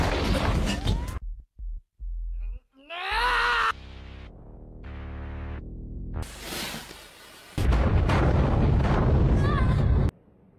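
Bomb explosion in a dramatic yakuza film scene, heard as loud crashing blasts and roaring bursts mixed with screams, groans and a musical score, with sudden cuts and drops between them.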